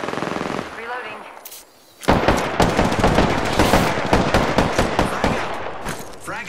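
Apex Legends gunfire: after a brief lull, rapid automatic bursts start abruptly and rattle on loudly and closely in long sustained volleys, with a voice speaking faintly at the start.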